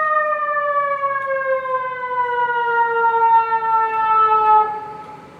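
A fire truck siren wails loud and close in a long steady tone that slowly drops in pitch, as if moving past, then fades slightly at the end.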